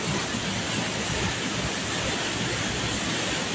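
Loud, steady roar of rushing floodwater during a typhoon, broadband and continuous with no pauses, close by and filling the whole clip.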